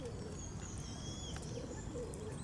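Pigeons coo softly outdoors, low throaty calls with faint chirps above them over a steady background hum, distant and quiet with no voices.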